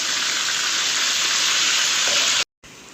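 Minced keema hits a hot pan for Lahori tawa qeema and sizzles loudly. A steady, dense hiss lasts nearly three seconds, then a sudden brief dropout comes before the sizzle returns.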